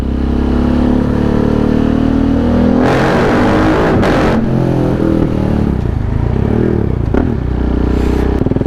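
A motorcycle engine roars loudly and steadily in a tunnel, rising in pitch as it accelerates past, with a scraping, rumbling road noise throughout.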